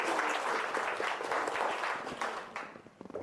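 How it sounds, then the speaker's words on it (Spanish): Lively applause from a group for a participant, many hands clapping in a dense, fairly close burst that tapers off near the end. "démosle un aplauso al compañero"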